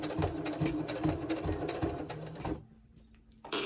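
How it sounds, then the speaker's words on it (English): A sewing machine runs close and loud in a fast, even mechanical whir for about two and a half seconds, then stops, leaving near-quiet with a brief handling sound. "you should be watching me and the sewing machine too"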